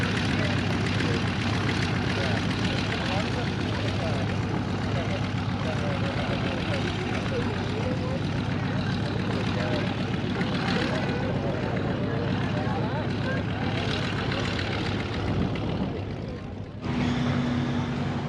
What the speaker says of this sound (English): Look at that plane way out there. It's got a propeller behind it.